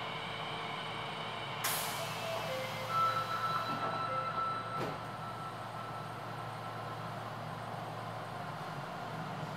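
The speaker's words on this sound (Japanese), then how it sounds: "扉が閉まります。" Interior of an Osaka Metro Sennichimae Line subway car as the doors close and the train pulls away toward Nodahanshin: a sharp air-brake or door-pneumatic hiss, a thump, then steady low rumbling motor and rail noise.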